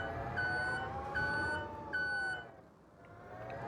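Forklift reversing beeps in Farming Simulator 25, three evenly spaced tonal beeps over a steady engine and background hum, fairly close, with no talk.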